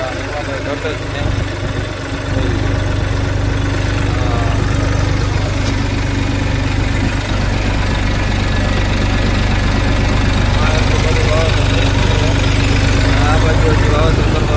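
A tractor engine runs loud and close, a low steady rumble with knocking vibration that swells after a few seconds, while people talk over it.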